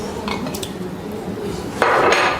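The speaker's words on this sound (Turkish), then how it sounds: "Daha sonra buzumuzu ekliyoruz" Ice being added to a chilled Adana ayran aşı soup with boiled wheat, a few clinks early on followed by a louder rattling clatter of cubes dropping into the pot.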